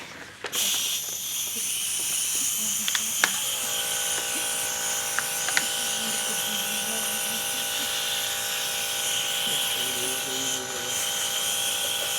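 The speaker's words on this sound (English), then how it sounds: "And then you get an air hose and you blow it around." An air hose blows a steady, loud hiss of air across wet Jo Sonja acrylic paint, pushing the colors around; the rushing noise holds for the whole stretch, broken by a few small clicks.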